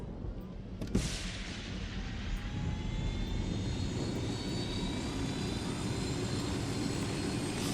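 Aircraft engine in the video game Ghost Recon Wildlands, a steady loud droning roar with a sharp thump near the start, holding constant throughout with no talk.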